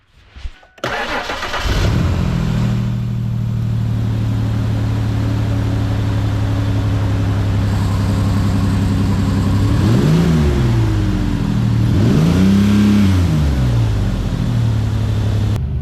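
A 1995 Ford Explorer engine cranks and catches, then settles into a steady loud idle nearby, with two brief revs rising and falling near the end.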